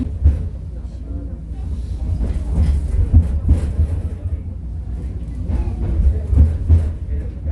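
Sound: tourist beach tram train running

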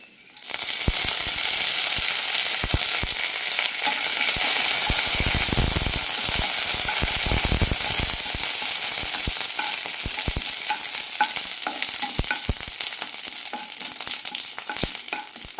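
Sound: curry leaves and red chilli sizzling in oil

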